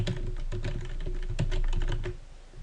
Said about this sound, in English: Just paste them in there and type in the domain.